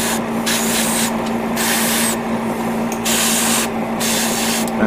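An airbrush spraying paint onto a 1/144 HG Gundam G40 model kit, a loud close hiss pulsing in several short bursts over a constant compressor hum.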